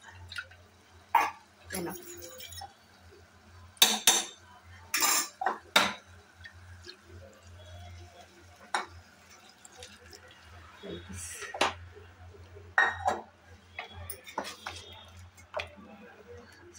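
A spoon stirs mushroom curry gravy in a metal pot, with irregular clinks and scrapes against the sides, some sharp and close, spread across a quiet kitchen background.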